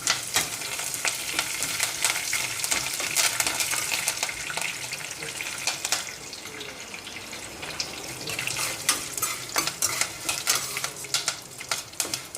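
Four broken chillies and a few sprigs of curry leaves sizzle hard in hot oil for Madurai temple-style tamarind rice, a dense continuous crackle with scraping stirs throughout and no voices.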